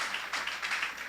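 Church congregation applauding together, a steady wash of clapping with a few swelling bursts, fairly faint and short, no voices over it.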